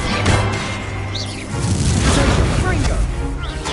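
In Hogwarts Legacy, the Incendio fire spell is cast: a deep whooshing burst of flame with booming rumbles that blend into continuous game noise, with a voice speaking over it.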